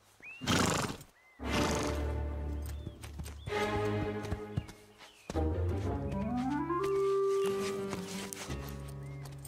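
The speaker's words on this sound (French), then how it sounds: "Je ne comprends pas ce qui arrive à ces chevaux." Horses neigh and whinny loudly and repeatedly in a cartoon setting, with long shrill calls in quick succession and hoofbeats clip-clopping underneath.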